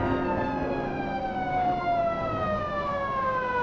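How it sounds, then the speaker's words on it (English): An emergency siren, muffled as if underwater, glides slowly downward in a dull, smeared wail with layered tones, steady and moderately loud with no voices. "The siren is underwater in the brown."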